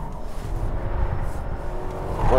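Lexus GS V8 sedan driving on a race track, a steady engine hum and road roar heard from inside, moderate and even, rising slightly at the end.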